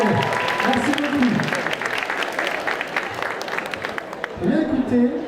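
An audience at a cosplay contest during a Japan-themed fan convention claps steadily at moderate loudness, while a presenter's voice speaks over the start and again near the end.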